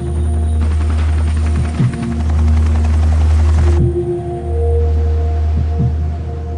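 A Chinook helicopter, a twin-rotor military transport, drones loud and steady up close, with pulsing rotor thumps and whining turbines throughout and no talk.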